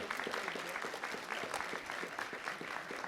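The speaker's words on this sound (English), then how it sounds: "Give her a great round of applause." Audience applause at a city council meeting as a speaker is called to the podium, steady and moderately distant, with scattered claps and some crowd murmur mixed in.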